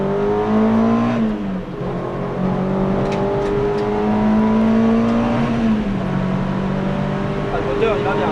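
A car engine revs and pulls through gears on a trackday circuit at Folembray, a loud steady drone rising and dropping in pitch, with people talking over it inside the car.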